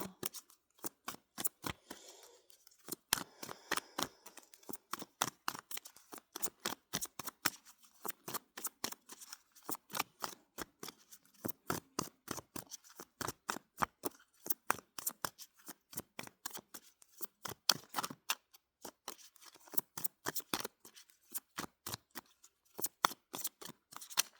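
Oracle cards being shuffled and drawn, a long close sequence of crisp rhythmic riffling snaps and flicks repeating steadily with brief gaps, no talk over them.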